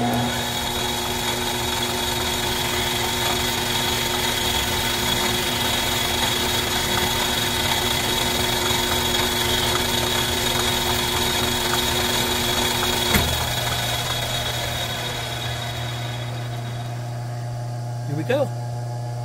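A lathe motor runs steadily while a cutter trims a .45 ACP brass cartridge case held in a redraw chuck, a continuous whining hum that winds down near the end, followed by a brief voice.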